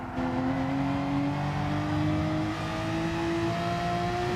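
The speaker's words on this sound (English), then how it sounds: "the engine sounds awesome" A GT3 or GT4 race car in a GT sim racing qualifier holds a steady, loud engine drone whose pitch climbs gradually as it accelerates, heard alone without talk.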